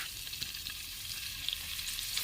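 Onions frying in hot oil for crab biryani, a steady soft sizzle with faint crackles running throughout, fairly quiet and with no voices.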